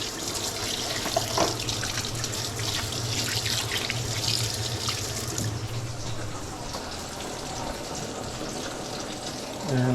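A kitchen tap runs steadily into a sink while a hand is washed, a loud continuous splashing stream with brief drips and shifts in flow, no talking.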